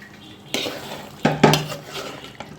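Cooked meat served out of a pot: a metal spoon scrapes and clinks against the pot a few times, close and clear, with quiet pauses between strokes.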